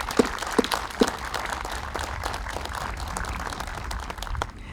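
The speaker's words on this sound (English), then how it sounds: "let's give them a big round of applause for all their hard work." An audience applauds at a veterans week wreath ceremony, a steady patter of many hands at moderate distance with a few sharp louder claps early on, fading slightly at the close.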